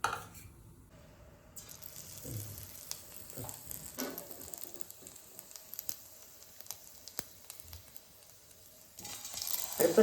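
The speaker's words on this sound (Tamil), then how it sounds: "இப்போ இது உருண்டையை பொரிக்கலாம்." Small balls of bread gulab jamun dough fry in a cup of hot oil, giving a faint, steady sizzle with scattered soft crackles and a few light clinks, louder near the end.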